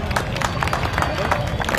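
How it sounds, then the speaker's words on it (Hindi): Crowd at an outdoor BJP political gathering in Sangam Vihar breaks into clapping to welcome a guest, a busy patter of many hands with murmuring voices mixed underneath. "जोरदार तालियों से उनका स्वागत करें"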